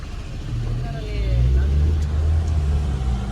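A Suzuki car, with about 102,000 on the clock, drives along during a trial run, its engine hum swelling as it pulls ahead, heard from inside the cabin with steady road noise.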